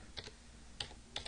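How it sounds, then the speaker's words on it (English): Keys on a computer keyboard being typed, three short clicking bursts spread across a quiet moment, fairly close and moderately soft with no voices. "we're going to type in the address in the address bar of"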